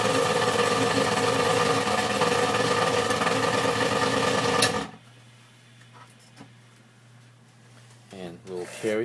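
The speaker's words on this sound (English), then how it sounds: "Now I'm going to mix the amalgam in the triturator." Dental amalgam capsule shaken in a triturator, a loud steady mechanical buzz for about five seconds that then cuts off, leaving a quiet room hum with a few small clicks and handling sounds.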